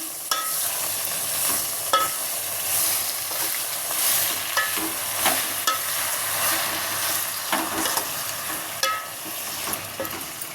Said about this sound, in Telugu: మంచిగా నూనెలో ఫ్రై అయితే చాలా బాగుంటుంది కొంచెం ఫ్రై చేసుకోవాలి